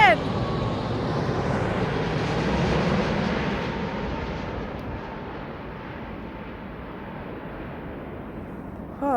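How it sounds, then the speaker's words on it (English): A British Airways Boeing 787-10 airliner passes near London Heathrow, a loud broad jet roar that swells over the first few seconds and then slowly fades as it moves away. "that was your British Airways 787, my favourite plane"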